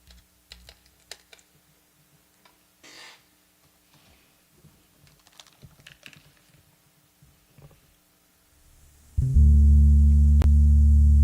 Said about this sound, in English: There's a keyboard right there.